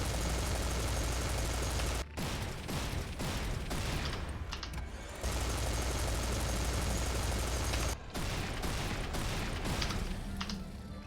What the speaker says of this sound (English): Let's start by shooting off a volley of gunfire